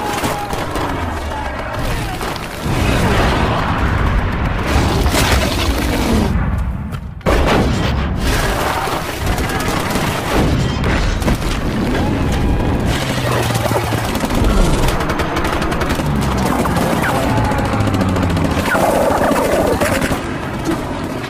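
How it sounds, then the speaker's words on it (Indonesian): A war film battle scene with an air attack, tanks and artillery fire: loud, dense explosions and gunfire roar continuously, with a sharp break near the middle before the barrage resumes at full strength. "tiba-tiba saja mereka mendapati serangan udara, tank, dan artileri dari musuh mereka"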